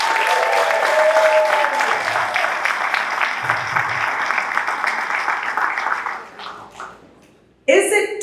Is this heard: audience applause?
yes